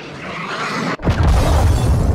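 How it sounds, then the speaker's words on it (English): A cruise missile strikes in Modern Warfare II: a rushing roar cuts off in a split-second drop, then a heavy low explosion bursts and rumbles on, loud and close. "Friendly cruise missile inbound."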